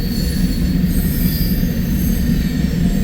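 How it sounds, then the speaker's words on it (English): A westbound freight train with seven locomotives rolls past close by in the Midwest with a steady heavy rumble and high metallic squealing of wheels on the rails. "This train's going west towards Lincoln"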